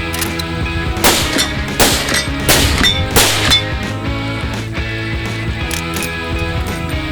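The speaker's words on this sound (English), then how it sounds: "So we got our steel set up about 75 yards away, 45-70. We're gonna give it a shot." A big-bore 45-70 rifle fires at a steel target set 75 yards out on a range; sharp, loud reports crack out a few times in quick succession over a steady tonal background.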